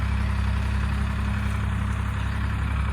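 A tractor engine idles steadily and close by, a continuous low rumble with an even mechanical drone that holds unchanged for the whole stretch, with no voices over it.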